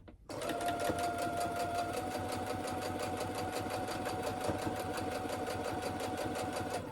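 A sewing machine stitching a fabric seam runs close and steady after a short start, its rapid, even needle rhythm humming continuously for several seconds without pause.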